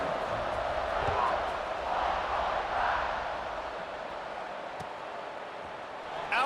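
Football stadium crowd roaring steadily right after a touchdown's extra point as the teams set up for kickoff, a broad, sustained wash of cheering that swells and eases slightly, with a play-by-play voice running faintly beneath.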